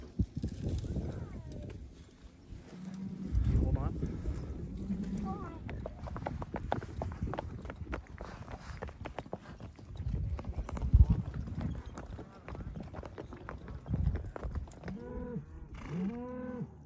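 Hooves of horses being ridden on a ranch branding day clip-clop at a steady walking rhythm, mixed with cattle lowing near the end and someone talking throughout.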